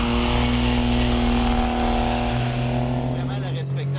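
The mid-mounted engine of a Renault Clio V6 drones steadily from just behind the seats. A strong, even hum holds throughout, then shifts in pitch near the end.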